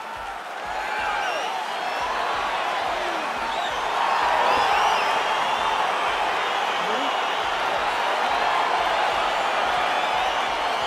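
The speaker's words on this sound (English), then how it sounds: "crowd getting excited as this fight gets underway" The crowd at a UFC heavyweight bout between Francis Ngannou and Alexander Gustafsson roars steadily as the fight begins, a dense wash of cheering and whistles that swells slightly midway and carries on throughout.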